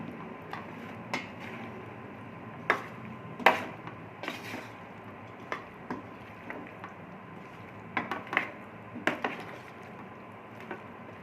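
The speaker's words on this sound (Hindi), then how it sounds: "बेसन का पेस्ट डालने के बाद हम इसको अच्छी तरह से मिक्स कर लेंगे भिंडियों में" Cut okra being mixed by hand with gram flour paste in a bowl, giving soft wet squishing and scattered light clicks against the bowl, close and fairly quiet, with no talking.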